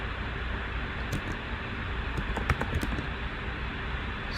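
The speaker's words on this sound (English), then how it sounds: "Let me type." Typing on a computer keyboard indoors, a short cluster of light clicking keystrokes over a steady fan-like background hiss, with no voices.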